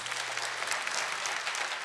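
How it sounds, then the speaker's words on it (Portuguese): Church congregation applauding during a service, a dense, even patter of many hands clapping for a short burst with no speech. "Vamos aplaudir Jesus."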